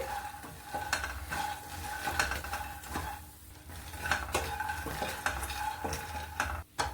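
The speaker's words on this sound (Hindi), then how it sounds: "लगातार हम मखाने को चलाते रहेंगे।" Fox nuts (makhana) fry in a pan over medium flame while being stirred constantly, with a soft sizzle under repeated rhythmic scraping and tapping of a spoon against the pan, quiet and close.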